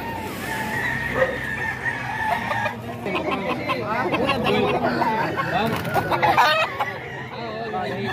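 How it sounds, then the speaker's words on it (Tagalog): Many chickens cluck and a rooster crows amid a crowd, with people chattering nearby throughout. "ang daming manok"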